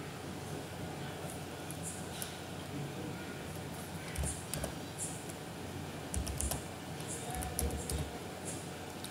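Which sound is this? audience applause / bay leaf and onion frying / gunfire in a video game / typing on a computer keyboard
typing on a computer keyboard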